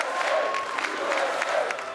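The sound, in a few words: crowd applauding Donald Trump on election night 2016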